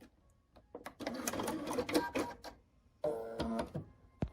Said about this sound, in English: And there you have the shamrock, machine sewn.